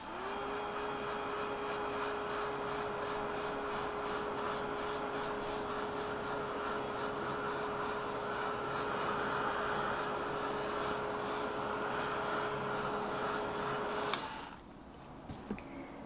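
A heat tool drying Staz-On glaze on a jar blows a steady whirring, whistling hum for about fourteen seconds, then clicks off, leaving faint room quiet.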